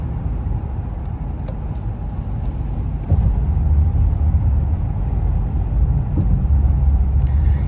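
Inside a 2022 Honda Passport on the road, a steady low rumble of tires and engine fills the cabin, growing slightly heavier partway through, with faint rattles and no talking.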